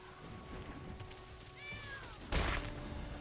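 A short cat meow plays from the Skittering Kitten card in the MTG Arena digital card game, a faint, brief mewing cry followed by a soft burst of game effect noise over quiet background.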